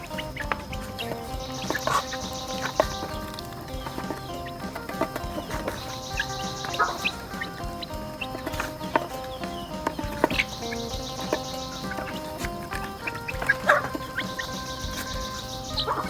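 Ducks and chickens raised together in a shared farm pen quack and cluck in repeated bursts, several birds calling near and far over a busy background of chirps.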